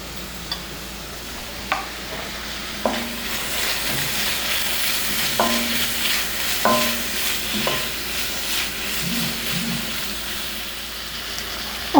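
Capsicum fried rice ingredients stir-fried in a pan, a steady sizzle under repeated scraping and clacking strokes of a spatula at an uneven rhythm, close and moderately loud with no voices.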